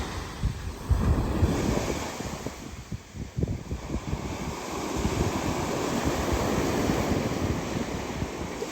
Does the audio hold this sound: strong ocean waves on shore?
yes